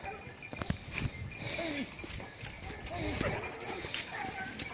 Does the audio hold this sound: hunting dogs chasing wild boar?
yes